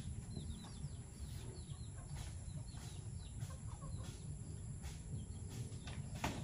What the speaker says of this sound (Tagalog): Gusto yan ng mga manok.